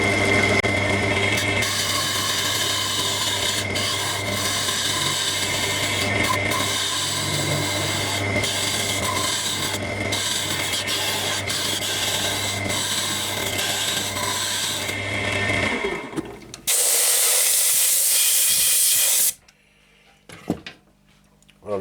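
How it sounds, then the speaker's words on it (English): Curved woodturning tool cutting under the shoulders of a coloured hollow-form vase on a lathe, giving a steady rasping, rubbing hum for about fifteen seconds before the cut stops and a short bright hiss follows, then near silence. "just changed over to the curved tool now to get under these shoulders"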